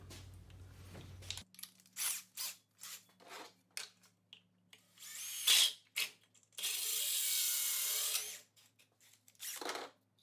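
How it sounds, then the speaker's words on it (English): Hard plastic of a 1973-87 Chevy/GMC LED tail-light housing being drilled, several short whining drill bursts with pauses between them and one longer grinding run near the end, close and loud. "We're gonna drill into that"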